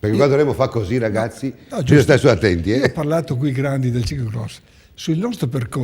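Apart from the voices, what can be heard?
No distinct noise like a dog, phone or traffic.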